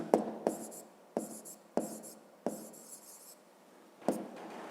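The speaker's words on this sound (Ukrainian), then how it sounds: "Пишемо Вінниця." A pen writes by hand on paper in short bursts of scratchy strokes, about seven separate strokes with brief pauses between them, close and quiet with no talk.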